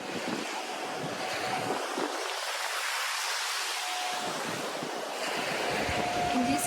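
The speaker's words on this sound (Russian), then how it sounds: "Индийский океан во всей его красоте." Indian Ocean surf rolls onto Melasti Beach in Bali, a broad roaring wash of breaking waves mixed with strong wind buffeting the microphone, steady and loud throughout.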